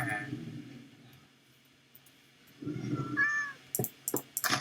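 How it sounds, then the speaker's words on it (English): Cat meowing inside a video game, with several short mewing calls near the end, sounding close and moderately loud, following stretches of low background game sound. "This cat is really annoying me."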